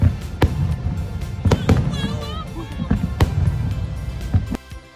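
Loud New Year fireworks bursting in the open air at Putrajaya, Malaysia, sharp booms and cracks repeating irregularly every second or so, with crowd voices and talk underneath.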